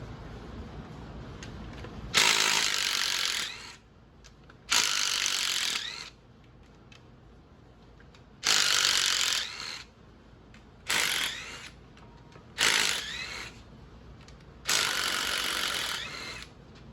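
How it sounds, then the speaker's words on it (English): Ratchet wrench loosening three 13mm bolts on a GM L86 Gen 5 LT 6.2 V8 engine during teardown: six bursts of rapid clicking ratcheting, each about one to two seconds long, close and fairly loud, separated by short quiet pauses. "So you got three 13mm bolts."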